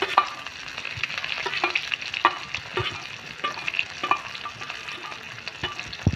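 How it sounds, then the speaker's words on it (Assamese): Onion paste fries in hot oil, a close steady sizzle with frequent scraping and stirring clatter from a utensil against the pan, and no voices. "প্ৰথমতে দিম আমি পিঁয়াজখিনি মানে পেষ্টখিনি আৰু আমাৰ ভাজাত"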